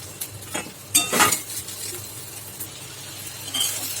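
A spoon scraping and clinking against a pan and bowl as eggplant stir-fry is served, with a few sharp metallic knocks and soft scraping over a low background hiss.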